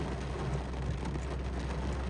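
Steady rain falls in Makkah, a constant broadband hiss with low rumble, moderately faint and unbroken throughout, with no voices present.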